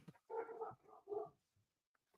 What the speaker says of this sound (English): first time you let it bark?